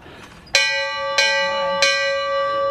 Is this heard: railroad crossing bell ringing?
yes